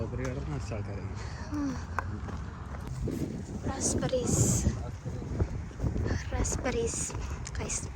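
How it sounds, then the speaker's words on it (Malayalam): Gentle breeze rumbling across the microphone under ongoing talk at a pick-your-own fruit farm, with occasional rustles and a few light knocks. "പക്ഷെ നല്ലൊരു ചെറിയൊരു കാറ്റ് വരും"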